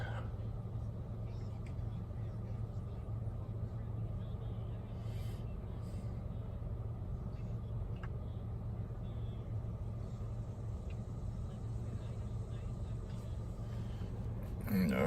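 Car engine idling steadily with a low, even rumble throughout, heard from inside the vehicle before shutoff; a person talks faintly over it.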